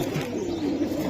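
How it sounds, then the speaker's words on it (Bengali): A pair of large silver pigeons gives a low, steady coo close by, one continuous rolling call with no talking. "অনেক বড় সাইজের সিলভার কবুতর"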